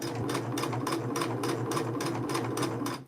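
A restored vintage Singer 6221c sewing machine stitches steadily, its motor humming under an even, rapid needle clatter that keeps a regular beat before cutting off at the end, close up.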